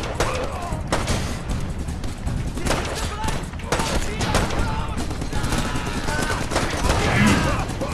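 Gunfire in a Thai video game during a commando mission, a rifle firing in dense rapid bursts, loud and close, while someone talks excitedly over the shooting throughout.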